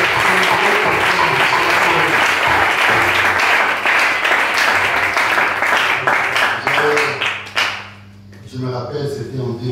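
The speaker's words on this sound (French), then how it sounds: "Est-ce que nous pouvons acclamer le Seigneur pour ça?" Congregation at a church service applauding and cheering loudly to acclaim the Lord, a dense sustained roar of clapping that thins out near the end, with voices mixed in.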